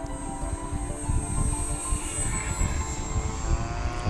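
A small engine on a Dynam Cessna 188 1500mm RC airplane whines in flight, a high steady buzz that shifts slightly in pitch, with wind noise underneath.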